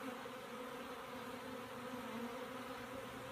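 Honeybees buzzing on a hive frame, a steady, continuous drone of many insects close by with no pauses and no voices.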